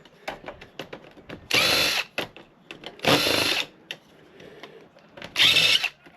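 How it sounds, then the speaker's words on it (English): A power drill whirs in three loud bursts, undoing screws from a server's plastic base plate, with clicks, rattles and handling of parts in between. "I've got to undo the screws for the plastic base plate."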